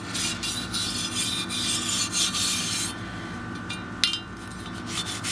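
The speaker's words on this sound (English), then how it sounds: "So just start brushing it off. Brush off all your surfaces." A brush scrubs the outer surfaces of a firearm during cleaning, close rasping strokes in a quick back-and-forth rhythm that pause briefly before resuming, with a sharp knock partway through.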